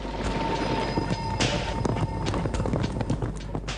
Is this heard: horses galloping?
yes